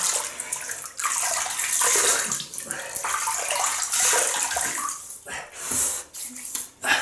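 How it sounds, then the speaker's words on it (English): Tap water runs and splashes while a man wets his face before a wet shave with an Edwin Jagger DE89L safety razor and Arko shaving soap, a close, steady hiss with brief breaks. "So I'm just going to add water to my face while we're at it."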